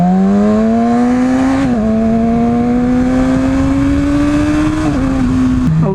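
A Yamaha R6 motorcycle engine pulls hard and close, its pitch climbing steadily in one long rising run, dipping briefly at gear changes and again near the end, loud and continuous with no talk.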